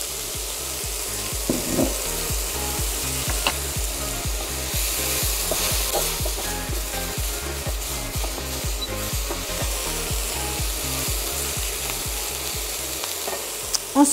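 Sesame oil sizzles in a pan while a utensil stirs and scrapes steadily for a courgette and coconut milk curry, a continuous frying hiss carrying rhythmic scraping strokes throughout, close and without talk.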